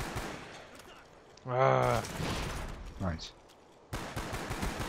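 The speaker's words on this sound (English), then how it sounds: "Wow, this FAMAS is rapid." FAMAS rifle fire in Black Ops on the Wii, a steady rough crackle of rapid shots running through most of the stretch, with a voice speaking over part of it.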